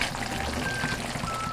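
Thick finished sauce poured into an eggplant side dish, a short steady close-up pour with a soft trickling, liquid texture throughout.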